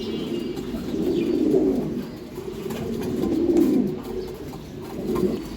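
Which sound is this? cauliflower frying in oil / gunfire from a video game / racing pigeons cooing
racing pigeons cooing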